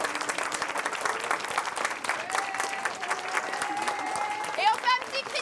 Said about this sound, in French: J'aimerais que vous puissiez vous applaudir.